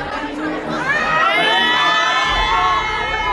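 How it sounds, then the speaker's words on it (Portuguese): A loud crowd at a party shouts and cheers together, a dense wall of excited voices close by that swells and holds steady throughout. "Depois dessa gritaria toda."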